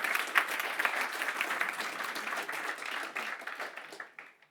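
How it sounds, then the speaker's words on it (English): An audience at an Angular conference talk breaks into steady applause, many hands clapping together for several seconds before fading out at the end. "where's that round of applause?"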